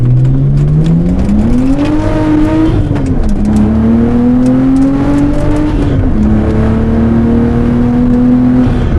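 A Nissan R32 Skyline GTS-T with an RB20 engine and straight-pipe exhaust drones loudly from inside the car, revs climbing through gears with faint crackles and pops over the steady engine note.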